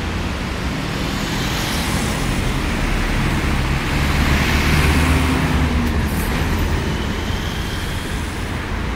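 Road traffic rumbles beside a bridge in Tokyo's Koto ward, a constant, fairly loud roar of passing cars and heavier vehicles that swells slightly midway and carries on without any voices.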